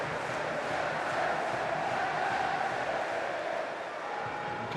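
A dense, sustained roar from the home supporters at Coventry City's Championship football match against Luton Town, many voices cheering together in a broad, continuous swell with faint talk mixed in.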